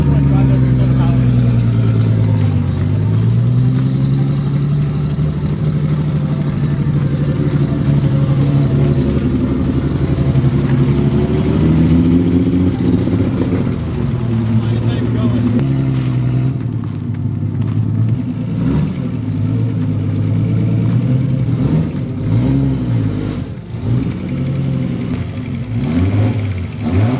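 A turbocharged Nissan Skyline GTR engine rumbles steadily as the car drives under its own power, with revs rising and falling across the whole stretch while a person talks over it.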